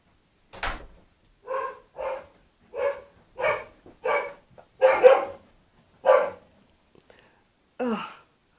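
Household dogs barking, a series of about ten sharp, loud barks spaced roughly half a second to a second apart, close by and alone in an otherwise quiet indoor space.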